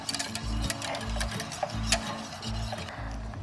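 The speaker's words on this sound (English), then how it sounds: "Then you can turn on the stove and mix well." A coconut milk mixture for Indonesian putri mandi is stirred in a pot on a stove, with steady repeated scraping strokes and soft low thumps in a regular rhythm, close by, with no talk.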